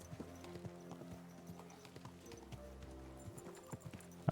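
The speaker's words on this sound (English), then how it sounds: "Easy, good horse." Horse hooves clip-clop at a steady walking rhythm in the medieval setting of Kingdom Come: Deliverance II, with a low snort or whinny partway through, heard close but fairly quiet, ending in a brief louder burst.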